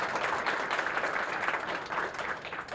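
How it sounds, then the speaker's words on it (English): A round of applause from a crowd at a first-time homebuyers celebration, dense steady clapping that carries on throughout without a break. "Can we get one more big round of applause for Eva, Lisa, and Damali"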